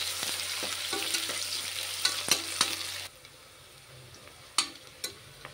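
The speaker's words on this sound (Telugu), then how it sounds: "మూడు ఉల్లిపాయలు ఇలాగా చీరికలు కోసుకొని సన్నగా వేసుకుంటే బాగుంటుంది." Thinly sliced onions fry in hot oil in a pan for a chicken gravy curry, giving a steady close sizzle broken by a few sharp spoon clicks while stirring. The sizzle softens partway through.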